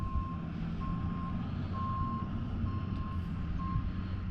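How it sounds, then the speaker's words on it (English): A construction truck works at a park, its reversing alarm beeping in a steady repeated rhythm at moderate distance over a low engine rumble. "Sorry for the noise in the background. There's doing some construction here at the park."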